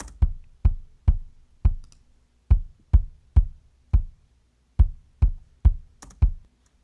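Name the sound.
EQ'd kick drum bus playback in Logic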